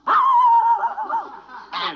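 A human voice imitates a dog answering back, giving one long, drawn-out, whining bark-like yowl followed by a short second yip, loud and close.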